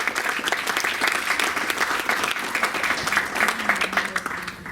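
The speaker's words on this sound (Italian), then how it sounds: "Lo ricordiamo con un grosso applauso." Audience applause at a press conference for a beauty pageant aboard a cruise ship, a steady, fairly close patter of many hands clapping with slight swells, no voices on top.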